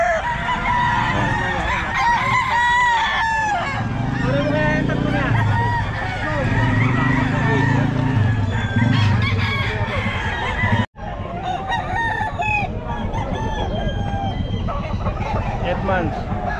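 Roosters crow repeatedly amid clucking and honking fowl at a busy Bocaue pet market, loud and close, with people talking throughout.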